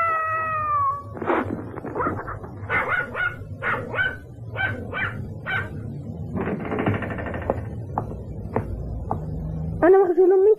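A cat meows repeatedly in short, insistent calls, mixed with a dog's barks and whines, all close and fairly loud.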